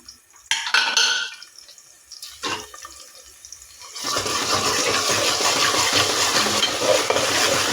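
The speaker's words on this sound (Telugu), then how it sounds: "కొంచెం పచ్చి వాసన పోయేదాకా వేగాలి అల్లం పేస్ట్" Ginger paste frying with onions in a pan: a few clattering knocks and stirring noises first, then a sudden, loud, continuous sizzle that holds steady to the end.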